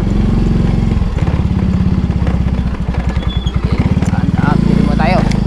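A motorcycle engine chugs steadily with a fast, even low-pitched pulse while being ridden, loud and close as if recorded from the rider's chest, with brief revving near the end and occasional talk over it.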